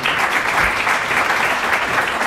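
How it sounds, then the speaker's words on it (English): Audience applause at a public discussion event, a steady dense patter of many hands clapping for the whole stretch, fairly loud and even with no talk over it. "I think it's worth applauding too."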